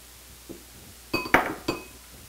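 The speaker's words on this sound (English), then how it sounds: "We're going to mix our little ingredients together first." Ingredients such as honey, butter, cinnamon and flour being mixed in a bowl, heard as a few sharp utensil clinks against the bowl in quick succession after a faint tap, close and otherwise quiet.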